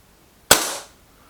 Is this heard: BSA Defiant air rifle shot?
yes